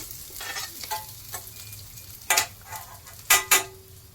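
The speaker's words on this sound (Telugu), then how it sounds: "ఫస్ట్ డ్రై ఫ్రూట్స్ అవన్నీ మంచిగా గీలో అయితే ఫ్రై చేసుకోవాలి అటు ఇటు" Dry fruits frying in ghee in a pan for sheer khurma, a low steady sizzle broken by several sharp stirring scrapes of a spoon against the pan, no talking.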